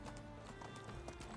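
Horse hooves in the Medieval Dynasty video game, quick continuous clip-clopping footfalls under a dense game soundscape, close and steady for a brief moment.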